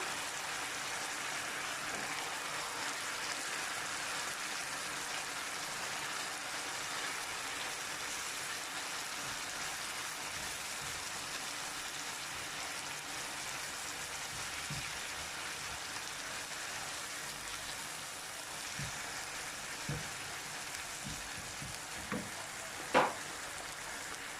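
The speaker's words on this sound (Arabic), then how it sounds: "نزيد نحط الثوم، نزيد نحط السلق هذا" Garlic and Swiss chard fry in a pan with a steady, close sizzle that holds evenly throughout, and a few soft clicks and knocks sound near the end.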